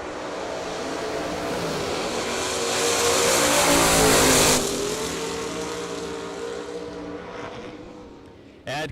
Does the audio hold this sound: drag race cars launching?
yes